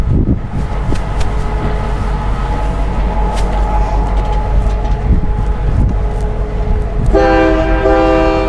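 Train sound effect played at a campaign kickoff event: steady rumbling rail noise with clacking wheels throughout, then a loud sustained multi-tone train horn blast near the end.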